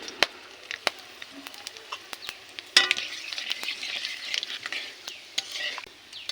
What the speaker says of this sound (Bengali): এখন তেলের ভিতর দিয়ে দিব এলাচ, লবঙ্গ, গোলমরিচ, এগুলো আমি ফোড়নে দিব।